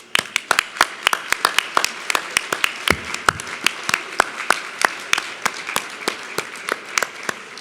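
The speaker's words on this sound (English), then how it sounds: "would you please stand for applause?" Scattered, fairly sparse clapping from a room of attendees at a philanthropy awards event, honoring planning committee members; sharp individual claps in an uneven rhythm, moderately close, with no voices over it.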